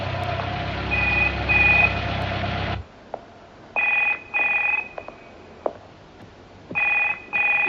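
A telephone rings in repeated bursts, a loud tone first overlapping a low rumbling drone, then alone in short regular double rings separated by quiet gaps.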